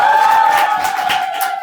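A school audience at the end of student presentations cheers loudly, a crowd of young voices whooping and shouting with a sustained high squeal over scattered claps.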